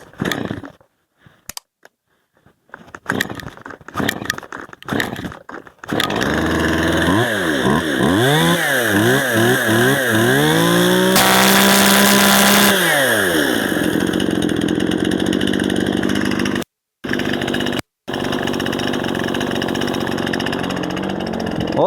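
A Stihl MS 181 chainsaw, just repaired, is pulled several times with the choke on, then fires up. It revs up and down a few times before settling into a loud, steady idle nearby, cutting out briefly twice.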